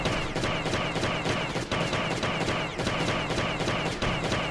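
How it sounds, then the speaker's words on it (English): Rapid, continuous gunfire from the survival video game Last Day on Earth: Survival, dense bursts of shots rattling without pause for several seconds at steady loudness with no talking. "Elvis, just shoot them. Shoot them. Shoot her! Shoot her!"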